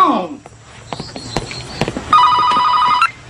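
A telephone rings in a home in a 1996 drama, one warbling electronic burst that comes in loudly late in the clip, after footsteps, knocks and rustling.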